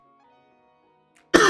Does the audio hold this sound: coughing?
yes